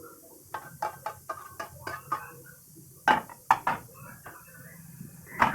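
A pot of soup going into a home oven, heard as a series of close clinks and clatters of metal and glass cookware with a small thud, on a quiet kitchen background.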